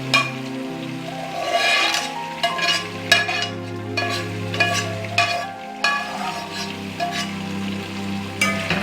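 Tomatoes go into beef karahi frying in a pan, with a steady sizzle under repeated spoon stirs and scrapes against the metal, close and moderately loud.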